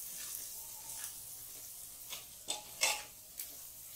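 Red chili and turmeric powder fry in a pan for a moong dal tadka, giving a quiet steady sizzle broken by a few soft clinks of a spoon stirring the spices.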